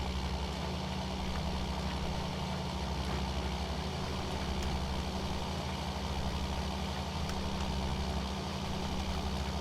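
Tractor engine in Farming Simulator 19 running at dropped RPM with a baler setup, a steady low drone that holds at an even level throughout, with no talk.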